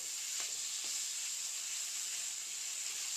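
Flattened rice frying gently in a pan over a low gas flame gives a soft, steady sizzle and hiss with a couple of faint stirring scrapes near the start.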